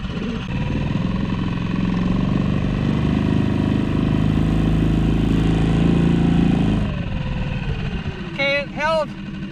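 A small dinghy outboard motor drones steadily under partial throttle in shallow water over small stones during an anchor test, then eases off, with a few short chirps near the end.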